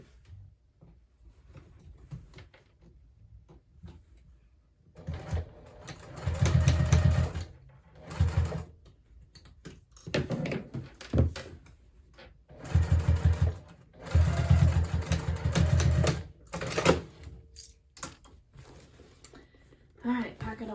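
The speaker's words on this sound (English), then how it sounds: "now I'm going to go ahead and just stitch that closed as close to the edge as I can get over here" A sewing machine stitches a crossbody bag closed near the edge in short bursts of low, rumbling whir, several start-and-stop runs separated by pauses, close by, with voice heard in places.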